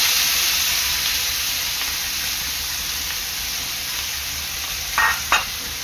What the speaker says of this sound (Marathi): तेल चांगलं गरम झालेलं आहे, यामध्ये टाकणार आहे मी बारीक चिरलेला कांदा आणि कढीपत्ता।